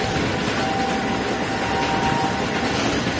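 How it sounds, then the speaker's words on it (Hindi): A train hauled by a CH-46-00 locomotive runs steadily on the rails, heard as a constant broadband rumble with a faint sustained whine, close by and loud throughout, with no voices. "CH-46-00 फुल फ्लो में है सर, ट्रेन को बहुत अच्छा हॉल कर रहा है।"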